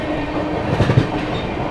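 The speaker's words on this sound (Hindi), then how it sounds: "चलिए दोस्तों यहाँ पर अपनी तेलंगाना एक्सप्रेस जो है स्किप करने जा रही है बीना जंक्शन को" Telangana Express passing through Bina Junction without stopping, a loud close rumble of rolling wagons with steady clickety-clack of wheels over rail joints.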